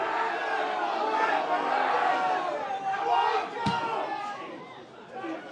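A vocal football crowd at a Guernsey match roars and chants continuously at a fair distance, with one sharp slam-like knock partway through and a commentator's voice over the crowd.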